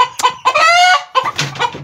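A Bantam hen clucks loudly and close by in a few sharp bursts, with one drawn-out squawking call in the middle.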